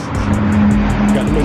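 A McLaren sports car engine holds a loud, steady hum at close range, with a continuous low drone and no clear revving, and someone talks over it.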